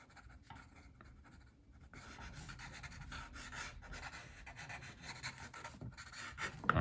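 A pencil draws on paper close up with soft scratching strokes, quiet at first, then denser and more continuous, with short rhythmic scribbles and light rubbing.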